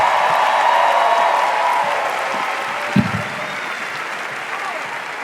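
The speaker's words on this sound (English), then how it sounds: "why don't you guys start clapping" Sustained applause from a live comedy show audience fills the room loud and steady, gradually tapering off, with a brief thump near the middle.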